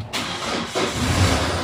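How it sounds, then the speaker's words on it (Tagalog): A car engine cranks and catches, then settles into a steady, close running rumble with no talk over it. "Mag-start daw ng sasakyan."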